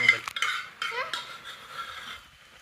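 Khichdi stirred and fried in a pan, a spoon scraping and clinking against the metal in short bursts over a soft sizzle, close and fairly clear, with a voice speaking briefly in between.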